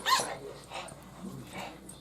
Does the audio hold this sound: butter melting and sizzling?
no